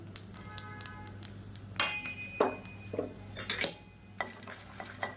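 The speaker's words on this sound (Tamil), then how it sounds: "இப்போ இதையும் சேர்த்து வறுத்துக்கலாம்." Dried red chilies roasting in a pan for garlic lentil podi are stirred with a utensil, giving sharp clinks and scrapes in irregular bursts over a low steady hum, close, no speech.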